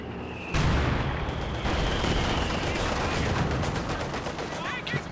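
Heavy mortar firing in Company of Heroes 2, a dense, continuous battle din of booming shots and gunfire, loud and close, with a sharp onset after a brief quiet start.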